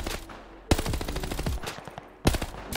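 Rapid automatic gunfire in a shooter video game, a close burst of sharp repeating shots with two loud bangs starting separate volleys.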